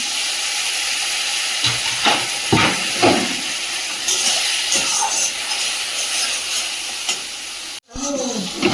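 A splash of water hits Kashmiri chilli masala frying in a pan for a whole-chicken curry, set off by sharp hissing and steady sizzle. Scraping stir strokes sound close, with a brief cutoff near the end.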